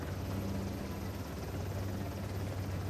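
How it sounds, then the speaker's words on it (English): Steady, loud helicopter rotor drone with low engine hum in the video game Uncharted: The Lost Legacy, continuous throughout with no speech over it. "We've got to bring down that helicopter."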